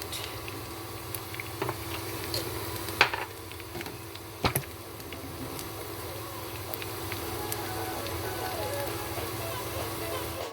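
Aromatics frying in a pan for a Korean fried chicken soy garlic sauce, a quiet, steady sizzle with faint patter and a few sharp clicks, no talking over it.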